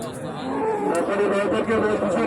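Cattle moo steadily amid a busy outdoor crowd at the Raniganj cattle market, the lowing blending with constant background chatter.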